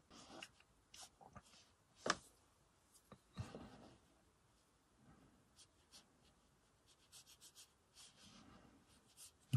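A pencil or pen scratching and rubbing across Fabriano 1264 watercolour paper, faint and close, with irregular short strokes and soft scrapes separated by quiet gaps, alone without talk.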